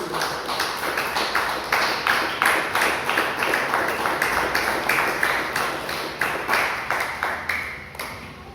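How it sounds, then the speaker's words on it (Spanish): A crowd claps steadily in rhythmic unison, loud and sustained, fading slightly at the end. "Den un fuerte aplauso al Señor."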